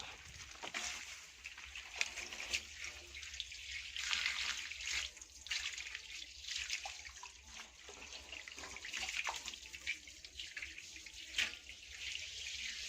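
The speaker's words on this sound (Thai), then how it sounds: "เดี๋ยวเขาจะเปิดน้ำใส่" Tap turned on with water running steadily into a container used for raising rice-field crabs, a soft continuous splashing hiss with small trickling and dripping accents, fairly faint and without talk.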